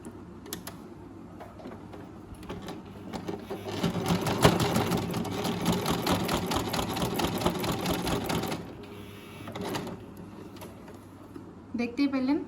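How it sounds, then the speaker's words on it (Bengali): A Singer SM024 sewing machine stitches through eight folded layers of thick denim jeans fabric, its fast needle chatter running steadily for several seconds up close before stopping, with brief handling clicks at the start and end. "তো এবারে এটা সেলাই করে দেখাবো।"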